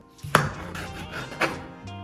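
A dull knife slicing a lime into wedges, giving two distinct chopping taps onto a board about a second apart, with faint squishing between cuts and a lighter tap near the end.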